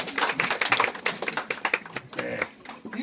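Guests applaud at the opening ceremony of a master potter's wood-fired kiln, with dense, close clapping that is brisk and lively at first and then thins out over three seconds.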